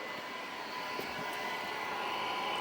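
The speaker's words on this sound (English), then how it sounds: "And I can hear the fan kick on right away." An xTool AP2 shop ventilation fan runs with a steady, close whooshing airflow and a faint tonal hum, constant throughout without speech.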